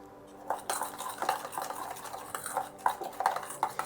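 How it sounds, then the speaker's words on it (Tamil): Chicken marinade of curd and egg being stirred in a bowl, with a steady run of soft scraping and light clinks of a spoon against the dish, close and fairly quiet, with no talking. "இதை நல்லா கிளறி விட்டுட்டு"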